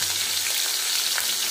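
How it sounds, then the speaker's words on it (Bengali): Prawns sizzle one by one in hot oil for a prawn malai curry, a steady close crackling hiss that fills the whole moment with no voices. "আমি এক এক করে চিংড়ি মাছগুলো ভেজে নেব, এপিট উপিট করে লাল করে ভেজে নেব।"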